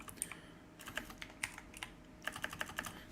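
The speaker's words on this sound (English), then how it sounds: "Apologies if you can hear the clickety-clacks of the keyboard." Computer keyboard typing during a live football watch-along stream: quiet, irregular bursts of crisp key clicks, some quick runs of keystrokes and short pauses between them, with no talking.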